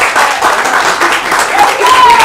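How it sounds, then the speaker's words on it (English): Audience applause at a variety show, a short burst of steady clapping filling the room, with some voices mixed in. "Then let's have a hand of applause."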